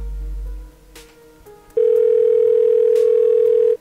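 A steady telephone dial tone hums loud and continuous for about two seconds after a brief quieter stretch, then cuts off abruptly.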